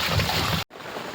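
Rain falls outside a farm hut in a steady broadband rush, close and moderately loud, briefly cut by a split-second gap before the wash resumes.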